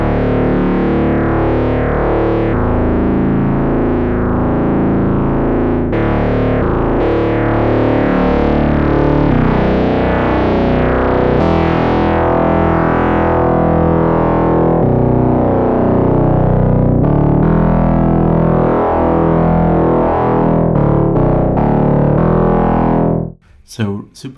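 Newfangled Audio Pendulate, a Buchla-inspired synthesizer plugin, plays dense, buzzy tones rich in wavefolder harmonics, shifting pitch continuously and loudly for about twenty seconds before cutting off abruptly.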